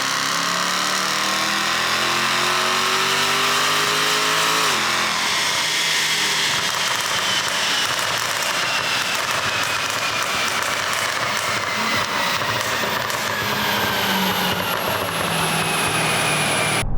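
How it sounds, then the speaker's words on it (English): A supercharged SVR car runs hard on a rolling road dyno, engine and blower whine climbing through the revs, then holding a loud sustained roar for many seconds. "we got the car on their rolling road to see what kind of brake horsepower we've got now"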